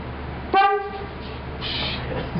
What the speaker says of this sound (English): You should honk the horn.